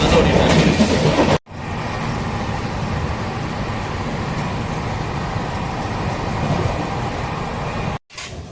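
Express train running on the Chennai line near Arakkonam, a steady loud rumble of wheels on track heard from inside the coach, continuous for several seconds with brief cuts at start and end.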